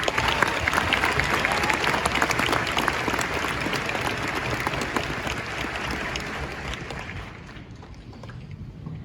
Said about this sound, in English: Let's give the band a round of applause.